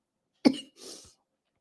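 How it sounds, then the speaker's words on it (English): A short coughing fit from a host during a live stream: one sharp, loud cough, then a softer breathy cough, then brief silence, heard close and alone. "When you get a coughing fit, you must take a moment."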